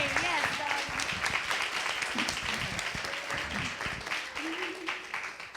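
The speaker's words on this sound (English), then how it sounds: "Clap it up for yourself" A live event audience applauds itself with dense, steady clapping that fills the whole stretch, while someone keeps talking over it.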